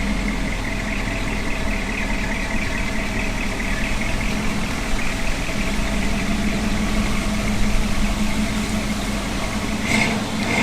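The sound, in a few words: car engine idling quietly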